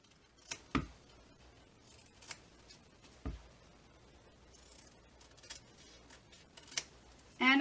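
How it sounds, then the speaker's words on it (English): Scissors trimming the fabric seam allowance of a laptop sleeve, a few sharp separate snips spaced apart, close and fairly quiet with faint room noise between cuts. "I'm going to trim my seam allowance"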